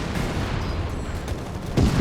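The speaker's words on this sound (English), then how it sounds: "Calling a lot of artillery there." Artillery fire in the strategy game Company of Heroes 3: a continuous rumble of distant shelling, with a heavier impact landing near the end.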